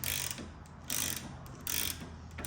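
Ratchet clicking while tightening a sway bar link on a 2003 Infiniti G35, close and steady, with rapid pawl clicks swelling in three short strokes.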